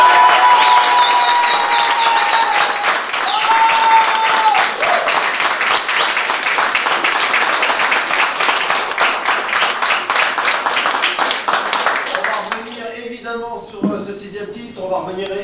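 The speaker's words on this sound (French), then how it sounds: "je vais vous demander tout de suite d'applaudir Gérard Rouillet" A television studio audience applauds a guest with loud, dense clapping and some cheering, holding steady for about twelve seconds before thinning out as a voice begins talking over the end.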